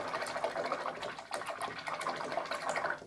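A pure bristle paint brush is swished and scrubbed in water, giving a continuous close splashing and sloshing with rhythmic washing strokes.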